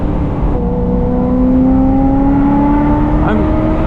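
A Ferrari 355F1 engine pulls steadily from inside the car, its tone climbing smoothly as it accelerates, loud and close with a constant undertone of road and mechanical noise.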